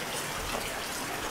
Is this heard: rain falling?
yes